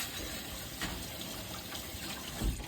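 Water runs from a tap while sterilized instruments are rinsed, a soft steady splashing flow at low level with a faint clatter near the end and no speech.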